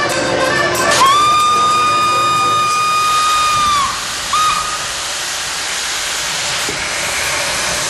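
The historic Douro steam train in Portugal sounds a long, loud whistle lasting about three seconds, then a short second toot, over a continuous hiss of escaping steam that carries on afterward.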